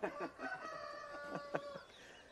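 A person imitates a rooster crowing, a loud strained cock-a-doodle-doo delivered by voice, fairly near and alone.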